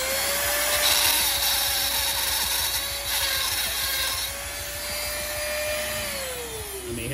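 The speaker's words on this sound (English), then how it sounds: "so we'll drill it one more time" A small rotary drill bores a hole into a custom wrestler action figure, its steady high motor whine running close and continuously, rising slightly near the end as the pitch drifts.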